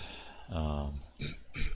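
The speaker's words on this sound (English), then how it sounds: "Sorry, clearing my throat, can't help it." A man clears his throat in two or three short, rough bursts at close range, with his voice breaking in between.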